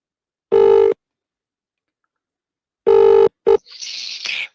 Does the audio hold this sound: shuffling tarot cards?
no